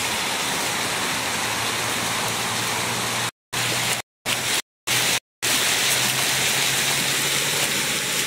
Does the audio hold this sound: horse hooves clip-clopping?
no